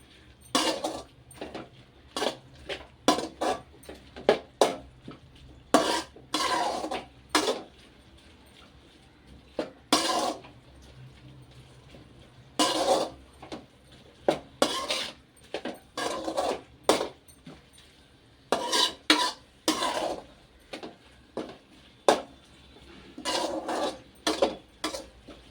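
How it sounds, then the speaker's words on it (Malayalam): Pappadam is stirred into a watery curry in a pan, producing bursts of scraping and clinking from a spoon against the pan, separated by quiet pauses. "കുറച്ച് വെള്ളമയത്തോടു കൂടി തന്നെ ഇളക്കി അത് സെറ്റാക്കിയെടുക്കണം"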